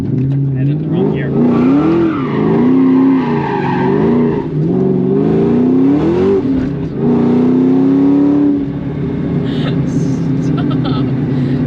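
A 2003 Ford SVT Cobra drifts on an empty road, its tires squealing loudly and continuously for several seconds with wavering pitch over a roaring engine, then easing off as the car settles.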